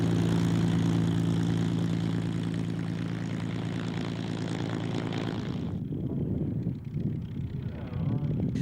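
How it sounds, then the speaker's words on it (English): Two P-51D Mustangs fly past at an airshow at Duxford, their Merlin engines giving a loud, steady propeller drone that fades sharply as they move away, with a voice talking over it. "More Merlin engines crackled towards their display"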